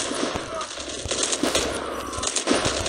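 Rapid automatic gunfire in a Call of Duty battle royale match, with sharp bursts repeating through a dense, loud firefight.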